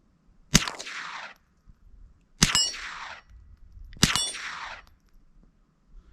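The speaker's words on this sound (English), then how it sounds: "now we have 3 rounds of supers and 3 rounds of subs with the suppressor" Three suppressed .22 rifle shots, supersonic and subsonic rounds fired through a SilencerCo Sparrow suppressor, each a sharp, loud crack with a brief ringing tail, spaced about two seconds apart with no talk.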